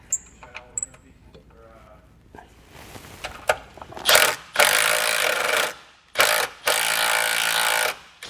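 Ratchet wrench tightening bolts on a MORryde jerry can mount being installed on a 2013 Jeep Wrangler JK, heard as quick clicking bursts that build into several loud, sustained ratcheting runs close to the mic.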